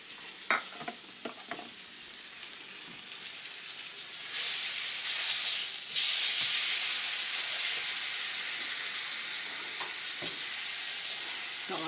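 Pork chops sizzle in a frying pan on a home kitchen stove, a steady bright hiss with scattered pops and crackles that swells louder partway through and stays close and continuous, with no talking.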